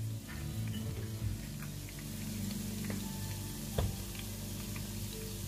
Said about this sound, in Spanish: Ahí os dejo friendo las albóndigas.